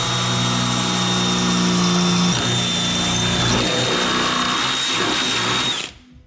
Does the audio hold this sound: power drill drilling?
yes